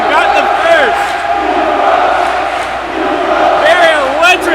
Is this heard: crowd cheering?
yes